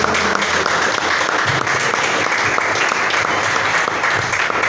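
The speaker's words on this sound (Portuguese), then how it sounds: "Palmas de Deus" Steady, dense applause from a church congregation during a teaching service, an even wash of many hands clapping together without pause for several seconds.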